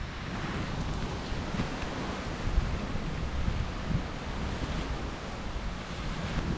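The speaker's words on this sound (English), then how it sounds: "Gusty morning." Wind roars across the microphone in a constant, heavy rumble with swelling gusts, loud and unbroken, with no voices.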